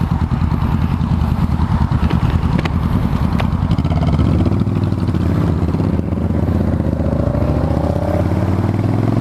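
A motorcycle engine runs close by, loud and throbbing with a clattery idle, its pitch climbing gradually toward the end as it revs up.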